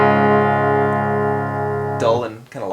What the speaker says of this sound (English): without the cab filter, my guitar sounds like this